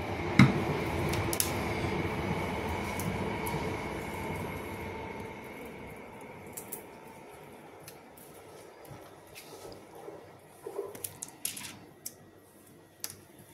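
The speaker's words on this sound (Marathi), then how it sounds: "भायर ट्रेन वयता म्हणटा बरो आवाज येता" A train rolls past outside a home kitchen, its low rumble strongest at first and gradually fading, with scattered clicks and rattles of the wheels on the rails, no voices.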